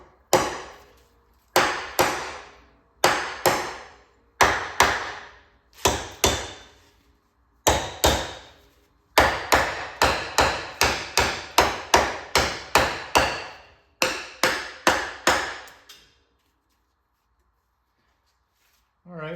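A hammer taps on Model A engine parts in quick bursts of ringing metallic strikes, some spaced and some rapid, close and fairly loud, then falling silent at the end.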